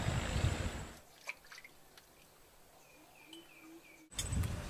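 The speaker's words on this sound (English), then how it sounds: "I can hear the birds." Birds chirp sparsely over a quiet flooded street in Bangkok, with faint short calls and a soft trickle of water, bracketed by louder noise at the start and end.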